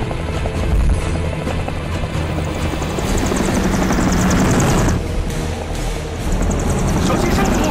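A rescue helicopter hovers in strong wind over a mudslide rescue site in a film scene, its rotor roaring loud and steady throughout with a continuous wash of broadband noise.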